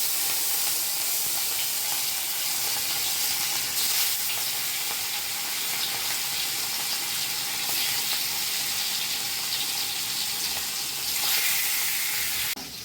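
Pieces of fish frying in hot oil in a home kitchen, a loud, dense, continuous hiss and sizzle that holds steady and close throughout, with no speech.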